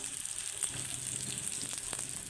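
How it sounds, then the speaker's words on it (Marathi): Semolina-coated fish shallow-fries in a little oil over a low flame, giving a steady, close, even sizzle with a few faint crackles and no talking. "आणि गॅसवर असं भाजून घ्यायचे सगळं"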